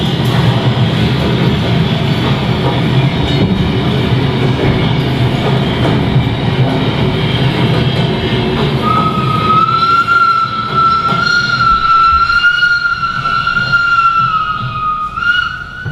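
A train emerges from a railway tunnel with a steady rolling rumble of wheels and carriages, joined partway through by a long, high, sustained whistle or squeal that carries to the end, loud and close.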